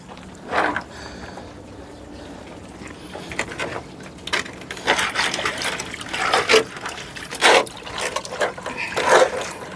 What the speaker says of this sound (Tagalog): Unahin ko munang i-refill yung kanilang tubig.